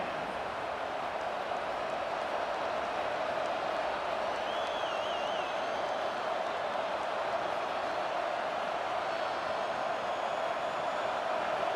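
A stadium crowd at an SMU vs. USC college football game sends up a steady, dense roar that holds evenly throughout, with a brief whistle-like tone rising above it partway through.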